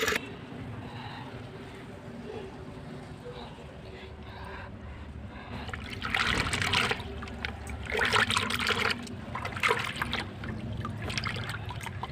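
Water is poured into a Holi pichkari water gun, giving a steady trickle and splash against light wind noise, with a voice faintly present in the background.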